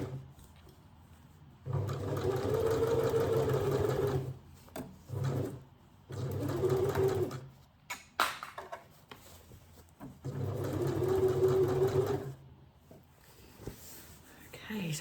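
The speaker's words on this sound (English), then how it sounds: "I'm gonna sew it together." A sewing machine runs in three humming bursts of a few seconds each as it sews a gathered dress sleeve, close and moderately loud with quiet gaps between.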